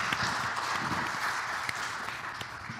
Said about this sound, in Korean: 먼저 우리 같이 한번 환영의 박수 한번 보내드리도록 하겠습니다